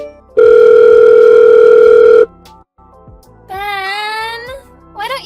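A phone rings loudly and steadily for about two seconds, a sustained electronic tone, then stops, followed by a wavering electronic chime and brief sounds afterward.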